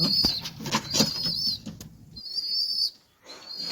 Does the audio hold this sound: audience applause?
no